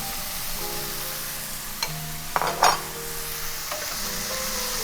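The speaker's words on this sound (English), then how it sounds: "Let the shrimp cook for another 1 to 2 minutes." Shrimp stir-frying in a pan for Chinese fried rice after a splash of cooking wine: a soft continuous sizzle with a few sharp spatula scrapes and clinks against the pan, close by.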